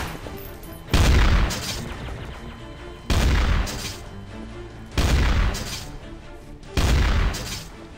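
Four heavy gunshot blasts from a pump shotgun in Garry's Mod DarkRP, loud and booming, spaced about two seconds apart, each with a short decaying tail, no talking.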